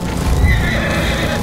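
A ridden horse in Ghost of Tsushima gives a short, loud whinny over clip-clopping hooves, close and brief, with no other sounds competing.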